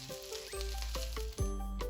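Ginger pork slices frying in a pan with sesame oil, a steady close sizzle with occasional sharp crackles and pops, heard alone without talk.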